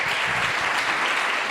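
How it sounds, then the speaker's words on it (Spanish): A church congregation bursts into loud, dense applause, a continuous close wash of clapping filling the room for a short stretch. "Dale un fuerte aplauso al Señor en esta tarde."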